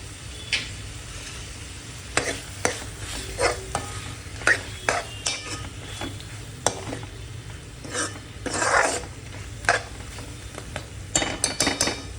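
Drumstick pod curry with garam masala being stirred in a pan, repeated scraping and clattering strokes of a spoon over a soft sizzle, close and intermittent with pauses.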